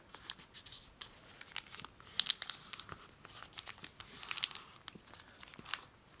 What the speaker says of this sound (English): take the bottom edge and fold it up to the top edge